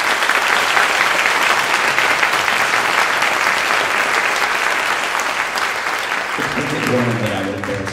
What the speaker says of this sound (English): Just give them another huge applause.